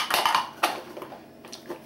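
A yellow metal lid clanks onto a frying pan, a few close, bright clinks with short ringing, then softer taps.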